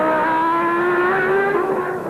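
Formula 1 race cars roar around the circuit at the 1990 Mexico Grand Prix, a loud, sustained high-revving engine whine with rising pitch as a car passes close by.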